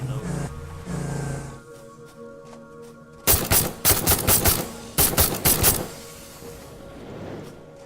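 A cartridge-firing gun in the factory-building video game Satisfactory fires rapidly in two quick clusters of sharp shots over a low ambient background.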